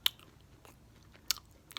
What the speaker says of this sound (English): hey, I'm chewing something